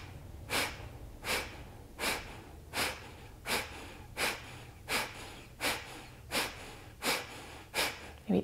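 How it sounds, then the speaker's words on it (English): Forceful, rhythmic nasal exhalations during breath-of-fire breathing in a yoga flow, about a dozen sharp snorting puffs at an even pace of roughly one every 0.7 seconds, close and clear, with no talking. "continue to really forcefully exhale through the nose"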